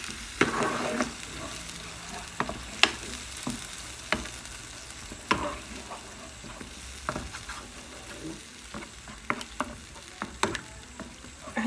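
Tomatoes and spicy merguez sausage stirred in a frying pan, with a steady low sizzle and scattered clicks and scrapes from the stirring utensil, close and moderately quiet.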